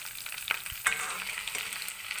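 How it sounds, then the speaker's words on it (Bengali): Pieces of pointed gourd (potol) sizzle as they fry in oil in a pan, a continuous crackling hiss broken by a few sharper pops and stirring scrapes, close and with no talking. "তো এবার আমার পটলগুলো ভাজা হয়ে গেছে 2 পিসে"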